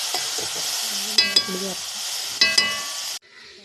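Colourful Kerala vegetable upperi with yam, beans, carrot, grated coconut and green chillies sizzling in a pan, with two bursts of stirring and scraping clinks before the sound cuts off abruptly near the end.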